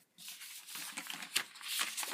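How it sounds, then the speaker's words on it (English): A paper page of a printed practice test booklet being turned, a soft papery rustle and flick with a brief sharper crackle midway, close and quiet with no talk. "Page turn."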